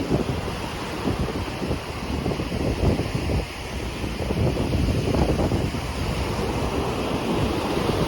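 Ocean waves surge steadily onto the Subic Bay shore, pushing trash up the beach, their continuous wash mixed with heavy wind rumble against the microphone.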